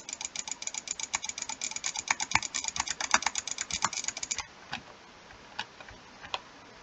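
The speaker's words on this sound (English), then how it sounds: "Sorry about all the loud clicking" Rapid loud clicking of a computer mouse and keyboard during a Minecraft Blitz SG PvP match, a dense fast run of clicks that stops abruptly, then a few scattered clicks, close to the microphone.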